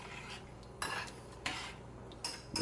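A large spoon stirring food in a cooking pot, with a few distinct scraping clanks against the metal over a low background hiss, no voices.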